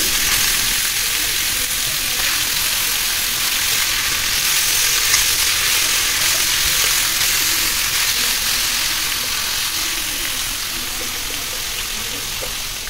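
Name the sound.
eggplant frying in pan for vangi bath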